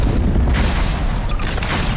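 A C4 charge detonates in the sandbox game Garry's Mod, a loud, close, booming blast with deep low rumble filling the whole stretch, with no voices over it.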